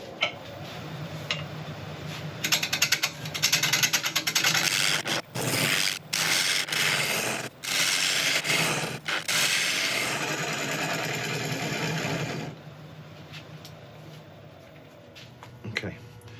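A wood lathe turns a spiky mallee burl while the bowl face is flattened, giving a steady whirring drone broken by rapid ticking and intermittent scraping bursts as the tool bites the uneven wood.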